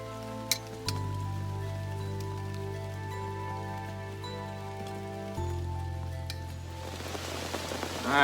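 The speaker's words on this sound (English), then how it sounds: "the actual rain has come in. Quite suddenly, just started pouring down." Rain patters steadily on a surface at a wooded campsite, soft and distant at first under a low steady hum, then growing denser and louder toward the end as the downpour sets in suddenly.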